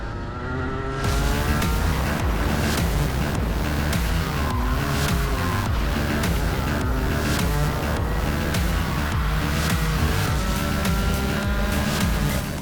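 A go-kart engine races around a track, loud and close throughout with a continuous high revving whine that rises and falls as the kart accelerates and brakes through corners, with no talking.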